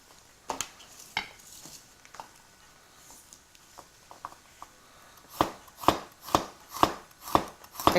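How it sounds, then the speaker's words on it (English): A knife taps sharply on a cutting board in a quick series of chops through garlic cloves after a few scattered knocks, close and fairly quiet. "Actually, I will be chopping it now."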